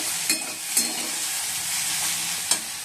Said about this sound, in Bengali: ঢেঁড়স আলু ভাজা বসিয়ে দিয়েছি